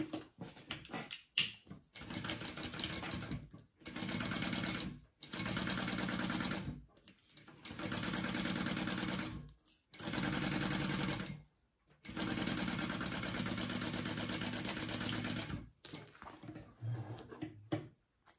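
A sewing machine stitches the bottom seam of a Pachira bag in several bursts of steady close whirring separated by brief pauses, with small clicks and handling noises between runs and no talk.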